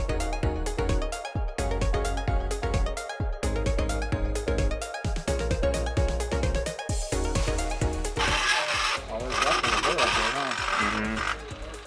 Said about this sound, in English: It's almost like there's like a burr kind of from the tooling or something when they made the piece right there. So we're gonna try to file that.